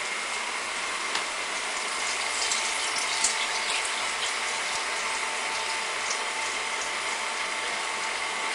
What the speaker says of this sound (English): So I'm going to come to the sink and just drain this off.